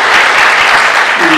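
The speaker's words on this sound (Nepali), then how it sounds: "हामीले उहाँलाई ताली बजाएर उहाँलाई स्वागत गरौँ" Audience at an insurance company's annual general meeting applauding in a steady burst of clapping, loud and dense throughout, with a faint voice beneath it.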